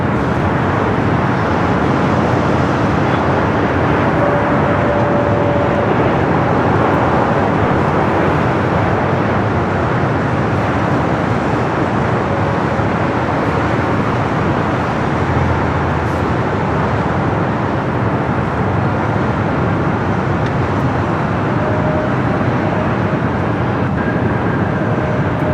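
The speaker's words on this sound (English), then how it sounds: "United Airlines flight 153 coming in from Hong Kong, a 9-year-old 787-9 Dreamliner." A nine-year-old United Airlines Boeing 787-9 Dreamliner arriving from Hong Kong at LAX gives a steady, broad jet roar that holds loud and even throughout, with distant airport traffic blended in.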